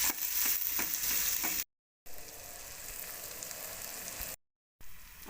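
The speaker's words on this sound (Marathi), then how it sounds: "टोमॅटो देखील आपल्याला मऊ होईपर्यंत परतून घ्यायचा आहे." Chopped tomato fries with onions in a pan for a spicy dry drumstick vegetable dish. The steady, close sizzle is punctuated by stirring scrapes and broken by two brief silent gaps.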